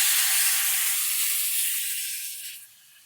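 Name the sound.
coconut milk poured into a hot pan with tomatoes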